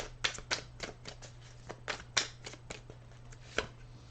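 Oracle cards being shuffled by hand in a series of crisp riffling bursts and soft slaps, irregularly spaced and close up, over a low steady hum with no talking.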